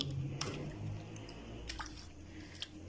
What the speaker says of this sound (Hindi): ये जमाइन और नमक लगा के तो हाथ से इस तरह मसल के तो रख दिए